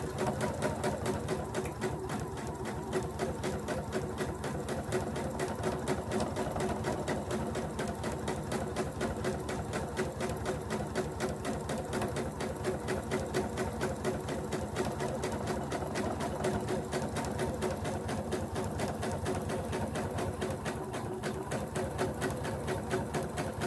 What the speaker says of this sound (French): Petite marche arrière pour faire mon point d'arrêt.